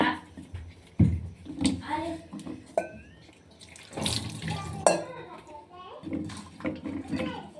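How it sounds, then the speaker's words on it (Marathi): Running tap water splashes and gurgles as carrots are rinsed by hand, with a person talking over the sound now and then. "सर्वात अगोदर गाजर व्यवस्थित त्याला धुवून घ्यायचंय"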